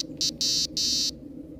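An electronic fishing bite alarm, set up for carp and sturgeon fishing in a gravel pit, gives four quick high-pitched beeps in close succession over a low steady hum.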